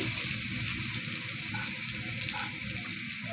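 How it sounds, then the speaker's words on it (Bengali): Onions with a bay leaf frying in hot oil for a shrimp curry with taro and potato, a steady close hiss and crackle that holds evenly throughout with no voices. "একটা তেজপাতা দিলাম, পেঁয়াজ দিয়ে দিলাম পরিমাণ মতন।"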